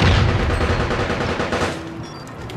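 Grenade blasts and gunfire in the APB: Reloaded shooter game, a dense loud burst of explosive booms and crackling that fades out over a couple of seconds, with no voices.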